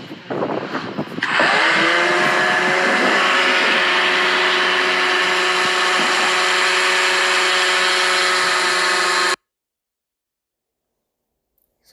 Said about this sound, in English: he's using the Dremel tool to sand it down so he can drill into it